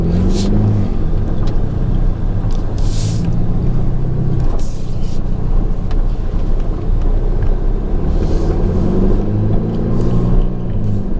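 A Ferrari Roma engine drones steadily at low pitch as the car pulls away in automatic mode and keeps driving, with road and engine rumble throughout and no clear talk.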